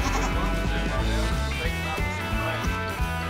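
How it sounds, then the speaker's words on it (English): Goats on a farm bleat loudly and continuously, several wavering overlapping cries right up close, with no talking. "We were trying to round up the goats, but it just wasn't working."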